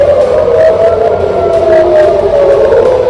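A steady wailing siren tone holds on continuously and loud, with a slight downward drift in pitch, over a dense background rumble, during the 2024 earthquake in Japan.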